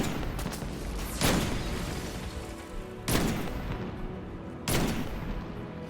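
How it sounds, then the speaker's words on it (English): Video game gunfire in a dense rolling barrage, with three sharp louder bursts standing out over continuous crackling shots, steady and fairly loud, no talking. "at least they're shooting each other"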